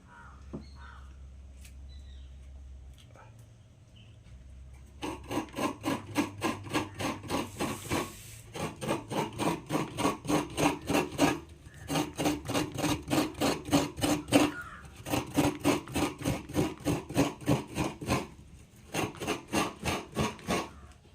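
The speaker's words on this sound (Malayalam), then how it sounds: "ഞാൻ തേങ്ങയൊക്കെ ഒന്ന് തിരിവിയൊക്കെ എടുക്കട്ടെ" Coconut grated by hand for a clay-pot rice meal, heard as steady rhythmic rasping scrapes in quick repeated strokes that start after a few quiet seconds and continue with brief pauses, close and fairly loud.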